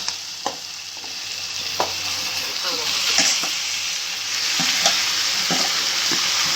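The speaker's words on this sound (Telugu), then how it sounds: "అంతా బాగా కలబెట్టాలండి ఫుల్ కిందికి పైకి అంతా ఫుల్ తర్వాత అంతా బాగా కలిసేటట్టు బాగా కలబెట్టుకోవాలన్నమాట" Chicken coated in cornflour fries in a pan while being stirred, giving a steady close sizzle broken by repeated scraping strokes, with no talking.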